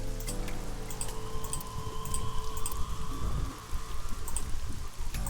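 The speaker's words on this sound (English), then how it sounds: "The parasol is getting pelted by the rain." Rain pelting a parasol in the video game AI: The Somnium Files, a dense steady patter of drops drumming on fabric, close and continuous with occasional brighter taps, no talk.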